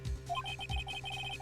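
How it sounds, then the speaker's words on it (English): A modern electronic phone ringtone in the Ace Attorney video game, a bright repeating beeping melody over low thumping game music, with no voices. "I heard a phone ringing just now."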